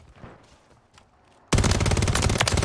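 Video game gunfire bursts in abruptly after a quiet stretch, becoming a loud, dense, continuous volley of rapid shots that runs to the end.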